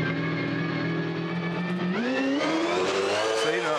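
Supercars race car engine heard from the onboard camera at the Gold Coast 2017 practice session, a loud continuous roar holding steady before the pitch climbs as revs build.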